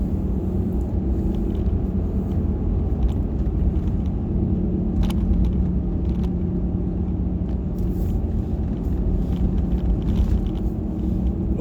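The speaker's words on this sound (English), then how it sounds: "It's only about 20-minute drive from Johnny's house" Steady low engine rumble and road noise fill the cabin of a car driving home on the road, a continuous drone with faint creaks and no talking.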